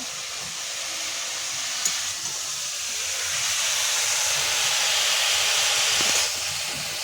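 Pumpkin leaves fry in a pan with salt and whole green chillies, giving a steady, loud broadband hiss and sizzle that swells slightly midway, with a couple of faint knocks and no talking.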